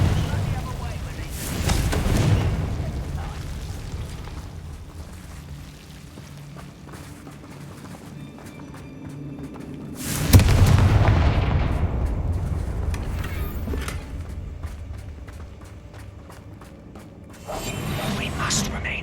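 Confringo spell blasts go off in the Hogwarts Legacy video game, rising to booming bursts at intervals over a low rumbling game soundtrack, with spoken lines from the game heard around them.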